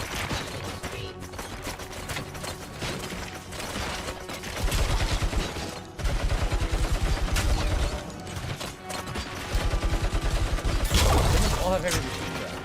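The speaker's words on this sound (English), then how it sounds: "All have heavy machine guns." Heavy machine gun fire from several enemies in the RoboCop video game comes in dense, sustained bursts mixed with game music and mechanical clatter, swelling louder in the second half.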